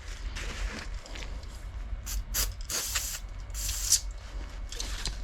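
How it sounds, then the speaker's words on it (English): Brake cleaner sprayed onto the dirty clutch of an Ongaro B21.04 motor during servicing, heard as several short hissing bursts with a steady low hum underneath. "You can also use a bit of brake cleaner just to clean up the clutch a bit, to get it more cleaner."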